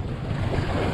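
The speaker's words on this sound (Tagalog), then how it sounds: "Baha ng tubig." Typhoon floodwater surging through a flooded street in Malolos, Bulacan, a steady broadband wash and rush with wind noise, loud and continuous throughout, no voices.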